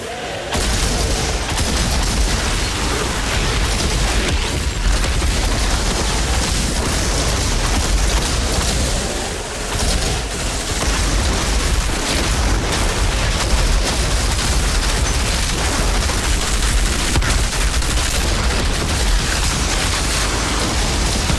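Nonstop loud rapid gunfire from a Pyromancer's gun in the shooter Outriders, a dense continuous barrage of shots and impacts with almost no pause.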